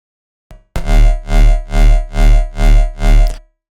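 Riddim bass from the Malstrom synthesizer with distortion added: a short blip, then six loud, heavy, growling bass pulses in a steady wobbling rhythm, alone and up front.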